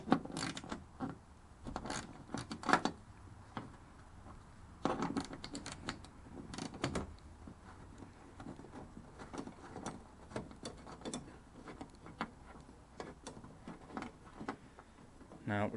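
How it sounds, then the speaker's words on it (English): A 10mm spanner working bolts on a car: faint, irregular metallic ratcheting clicks and small taps in a quiet space, with brief murmured speech in places. "10mm spanner on here. That does the bolts on here."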